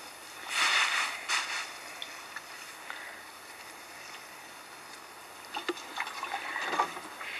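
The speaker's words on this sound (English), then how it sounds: "so we're just going to add some water to it." Water is poured and splashed onto a dry carbon layer of a compost heap, in short soft bursts near the start and again toward the end, fairly quiet with pauses between.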